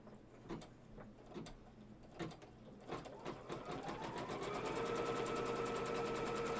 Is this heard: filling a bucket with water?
no